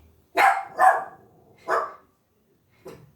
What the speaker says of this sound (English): Sorry, Scrappy, stop barking.